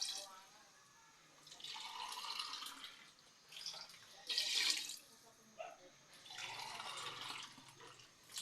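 Water splashing and trickling into a cooking pot while making rib soup with green string beans, arriving in several separate pours and splashes of varying strength with quiet gaps between them.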